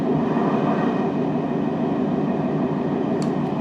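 A train rolling along the rails on a long French rail journey, heard from inside a carriage as a steady, loud broadband rumble and rattle that continues without a break, with no talking.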